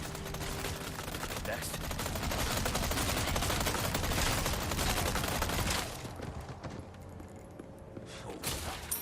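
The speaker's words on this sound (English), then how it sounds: "And you can start shooting them here now." Sustained rapid gunfire in Resident Evil 2 Remake, a dense loud barrage for about six seconds that then breaks off into quieter scattered shots and game noise.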